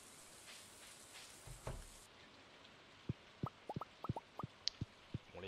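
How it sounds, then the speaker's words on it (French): Rain falling in the farming video game Stardew Valley: a soft steady patter with a series of distinct plopping drips spaced irregularly over several seconds, faint and close. "Finalement, il arrête pas de pleuvoir."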